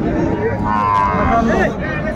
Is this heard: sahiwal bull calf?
yes